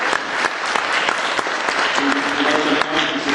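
Audience applause for tennis champion Patricia Medrado fills the room, a dense, steady wash of many hands clapping at close range with no break.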